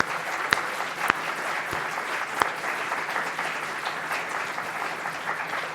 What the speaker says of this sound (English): I'd like everybody to give everybody a round of applause for a great job.